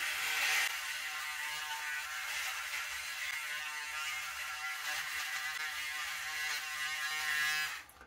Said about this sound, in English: when I shave in turbo mode, I need to move the shaver a little bit slower along my face